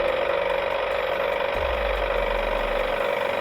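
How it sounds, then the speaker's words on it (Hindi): A tractor engine runs steadily along a forest road, a continuous mechanical idle with a rattling, ratchet-like texture; a deeper low rumble swells in about halfway through and holds to the end. "रोशन भी उसी रास्ते से अपने ट्रैक्टर पर आ रहा था।"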